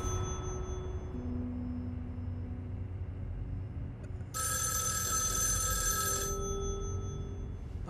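A telephone bell in the video game Erica rings in one sustained burst of about two seconds, midway through a steady low room hum.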